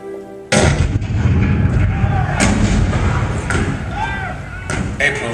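Cannon fire at Fort Sumter in 1861: a heavy boom breaks in, followed by further thuds and rumbling blasts over a continuous roar, with voices faintly underneath.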